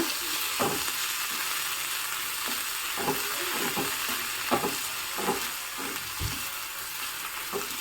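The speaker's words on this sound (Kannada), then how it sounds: "ಮೆಂತ್ಯ ಸೊಪ್ಪಿನಲ್ಲಿ ಸ್ವಲ್ಪ ಕಹಿ ಅಂಶ ಇರೋದ್ರಿಂದ ಇದನ್ನು ತುಪ್ಪದಲ್ಲಿ ಚೆನ್ನಾಗಿ ಬಾಡಿಸ್ಕೋಬೇಕು" Fenugreek leaves sautéing in ghee in a pan, a steady close sizzle broken by repeated scraping stirs at an uneven rhythm, with no voices.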